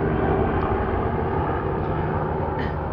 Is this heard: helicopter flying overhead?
yes